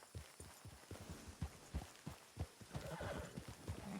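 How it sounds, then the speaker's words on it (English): Wild horses in Red Dead Redemption 2 on the WildRP server neigh and whinny in the distance while their hooves clop in an irregular rhythm, with no talking. "I hear horses, but I think they're the wild horses over there."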